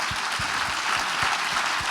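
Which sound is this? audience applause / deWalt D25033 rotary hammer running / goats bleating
audience applause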